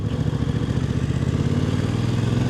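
A Yamaha Tracer 7 motorcycle runs up close with a loud, throbbing engine note. It pulses and rises slightly as it accelerates, with a clattery mechanical edge and no speech.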